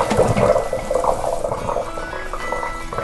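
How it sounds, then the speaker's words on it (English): Water from cooked cauliflower and potato pouring out of a pot as it drains, a steady splashing gush close by that fills the whole moment and tapers slightly toward the end. "we're gonna drain the cauliflower who's been cooked with the potato"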